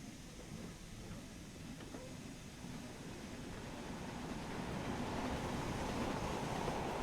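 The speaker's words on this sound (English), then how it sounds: "As another of the locos comes past" A steam locomotive in Train Sim World 6 passes by as a low, rumbling rolling roar that builds steadily louder and closer, with a faint rhythmic clatter underneath.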